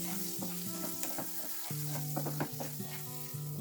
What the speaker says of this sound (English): Add the mixture which I had ground.